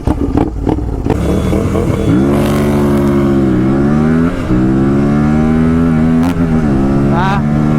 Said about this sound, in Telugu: మీకు ఒకసారి దీని ఎగ్జాస్ట్ సౌండ్ కూడా వినిపించేస్తా. So this is the exhaust note.